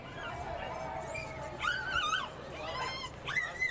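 Dog whimpering and yipping at a dog race, with high whiny cries coming in short bursts over steady crowd and track noise, the calls rising and falling several times.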